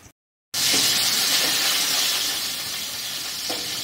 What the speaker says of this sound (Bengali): এই তেলের মধ্যে বাদ বাকি মাছগুলো ভেজে নিই।